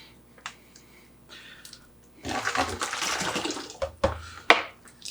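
Apple juice sloshes inside a sanitized fermenter being shaken while making an English cider, a burst of splashing liquid lasting about two seconds, then a few separate sharper knocks and splashes, close and moderately loud.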